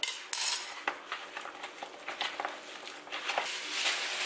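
A filling mixed by hand in a bowl, heard as soft wet squelching and pattering with light clinks against the dish. The sounds come close and irregular for about four seconds.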